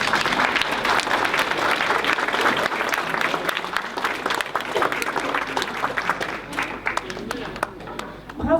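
Sustained applause from an outdoor crowd honouring musicians at a 8 May commemoration ceremony in Azay-sur-Cher, steady clapping throughout with a voice faintly underneath.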